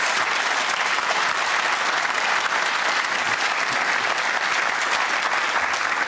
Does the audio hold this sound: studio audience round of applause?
yes